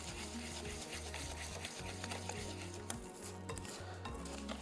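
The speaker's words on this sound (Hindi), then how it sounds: "200 ग्राम है चीनी, कैस्टर शुगर। इसको अच्छे से हमने करना है मिक्स" Caster sugar is stirred in a bowl for egg biscuits, a quiet run of scraping and clinking strokes against the bowl in a steady, repeated rhythm with no talking.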